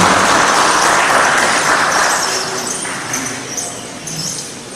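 Sustained applause from a conference audience, a loud dense wash of clapping that holds steady and then eases slightly toward the end, with no voices over it.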